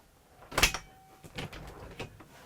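A motorhome fridge freezer door that opens from either side, heard as a sharp click and thud, followed by a few softer knocks and bumps as the door moves and shuts, fairly close.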